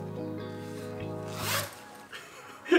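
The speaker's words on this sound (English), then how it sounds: "It zips up like this." A clothing zipper is pulled up in one quick, close zip, followed by a few soft rustles and a small clack.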